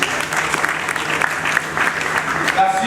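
A crowd at a political party general assembly applauds its founders, sustained clapping from many hands filling the room, loud and steady with a few cheers over it.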